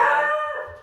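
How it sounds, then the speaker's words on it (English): A dog gives one loud, close howl that slides downward in pitch and fades out within about a second. "that's my dog. That's what I was worried about."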